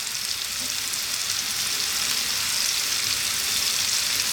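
Garlic and ginger frying hard over high heat with a constant dense sizzle, stirred continuously, steady and close with no voices.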